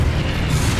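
A short, loud burst from the Confringo explosion spell in the Hogwarts Legacy video game on Nintendo Switch, a dense booming blast lasting under a second.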